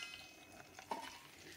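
Pieces of fish fry in a pan beside a simmering fish eguru curry, giving a faint, steady sizzle with light crackles for a moment.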